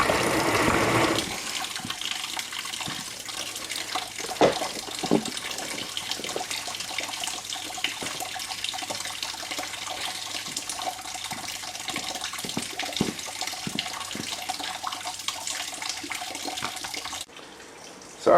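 Steady broadband rush of rain mixed with water draining from a truck radiator into a bucket, continuous and fairly loud for most of the stretch, with scattered clunks and drips, cutting off abruptly near the end.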